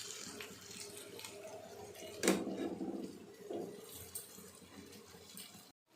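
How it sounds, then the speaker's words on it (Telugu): Water is poured into a cooking pot of drumstick and prawn curry, a short splashing gush near the middle followed by a softer trickle, fairly quiet against light kitchen background. "ఇప్పుడు మనం వాటర్ పోసేసుకుందాం కొద్దిగా"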